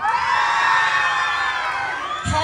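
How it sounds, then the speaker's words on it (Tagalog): Costume parade crowd cheering and shouting loudly, a sustained swell of high voices and whoops at a pageant's national costume parade, with a brief thump near the end. "Wala po bang hiyawan dyan?"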